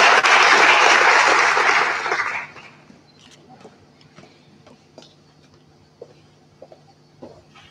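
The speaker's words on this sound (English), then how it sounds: "with a round of applause, please help me welcome Her Excellency Christine Evans-Clark" A lecture audience welcomes Her Excellency Christine Evans-Clark with loud, dense applause that fades out after about two and a half seconds, leaving a quiet room with scattered small taps and clicks.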